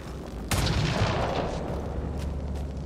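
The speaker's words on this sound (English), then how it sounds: "Take a shot at that fuel cell." A single loud gunshot in Mass Effect: Andromeda, fired at a busted fuel cell, cracking sharply and then rolling into a sustained booming rumble that lingers and slowly fades.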